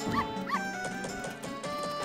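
Dog barking and yipping in the video game The Legend of Zelda: Majora's Mask, a few short game-sound barks over steady background music, moderately loud.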